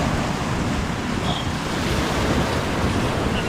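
Ocean waves at sea, a steady loud wash of surf with wind noise buffeting the microphone, continuous throughout with no talking.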